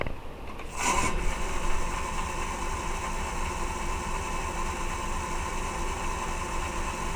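A Nova 1624-44 wood lathe fitted with a DVR motor spins up at about one second and then runs steadily at 550 RPM, giving a continuous close hum with no talking.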